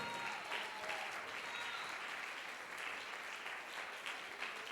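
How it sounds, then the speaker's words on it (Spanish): Sustained applause from a church congregation during a sermon, a dense steady wash of many hands clapping at even loudness throughout, with no speech standing out. "Dele fuerte el aplauso"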